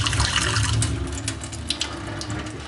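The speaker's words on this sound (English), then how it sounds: "I'm going to show you the water pressure anyway, because the water pressure in this building is good" Hot water runs steadily from a stainless steel sink tap in an apartment kitchen, a continuous close splashing rush that stays loud and even throughout with no voices.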